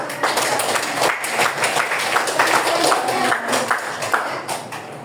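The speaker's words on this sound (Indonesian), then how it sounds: "Kita beri aplaus" A classroom group applauds a student's presentation, with dense, steady clapping from many hands close by that lasts throughout and tapers slightly at the end.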